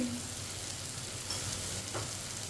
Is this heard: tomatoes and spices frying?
yes